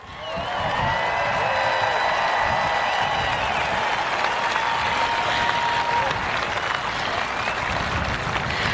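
A large crowd at a political rally in Ocala, Florida, breaks into sustained, loud applause with cheering, a dense steady roar of clapping that swells in and holds for several seconds.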